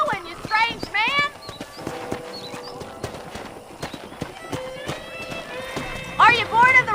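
In the Western video game Red Dead Redemption, a horse gallops with quick clip-clopping hoofbeats, a whinny and background game sounds, while people talk over it.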